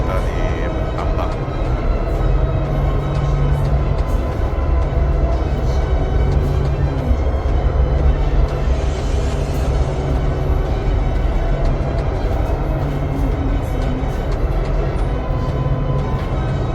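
An underground funicular train in Istanbul climbing uphill, giving a continuous loud rumble and rattle of rail cars with a steady low drone throughout.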